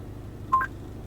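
A single short telephone dialing tone from a phone call placed through Android Auto on a car's wireless adapter, heard as a brief clean beep over a quiet low hum.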